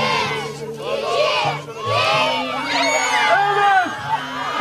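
A crowd of children and adults cheers and shouts loudly and continuously at an outdoor tug-of-war during a picnic for orphaned children, with excited voices rising and overlapping throughout.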